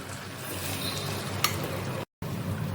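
Spanish omelette egg mixture frying in an oiled pan, a steady close sizzle and crackle with a brief scrape partway through and a short gap of silence near the end.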